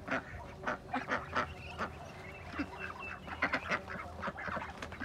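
Ducks being fed mango fruits give repeated honking quacks in irregular bursts, fairly close, over a faint outdoor background.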